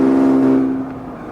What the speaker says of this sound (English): God, I can't even hear myself talk with this exhaust